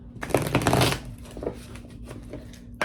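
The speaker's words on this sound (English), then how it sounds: "I'm going to do a quick little shuffle here" A deck of butterfly oracle cards is shuffled in a quick riffle, a dense papery flutter loudest in the first second, then softer scattered card flicks and taps close by.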